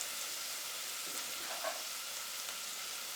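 Garlic sizzling in olive oil in a pan for pumpkin chili, a soft, steady frying hiss that continues without a break.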